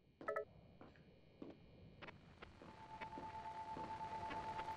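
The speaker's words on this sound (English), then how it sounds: "Something in this room is interfering with Harry's cell phone. Listen to the whine and hone in on the disturbance." From Silent Hill: Shattered Memories, a cell phone beeps and tones with electronic interference, then a steady high whine rises and holds, growing louder toward the end, with no talk.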